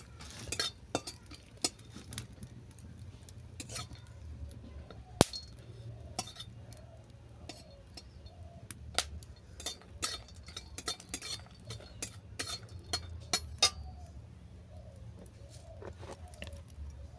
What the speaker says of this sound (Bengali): শুকনো লঙ্কা। এটাকে কিছুক্ষণ রোস্ট করে নিচ্ছি।